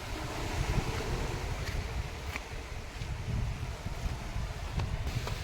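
Sea waves roll in at high tide along the seaside promenade at Uttan Chowk beach in Bhayander, a steady, loud wash of surf mixed with gusty wind buffeting the microphone, with no clear pauses.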